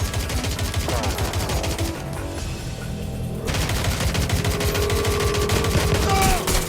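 Rapid bursts of automatic gunfire and single shots in the video game Watch Dogs Legion, loud and dense, with a brief lull midway before the shooting resumes alongside game music and effects.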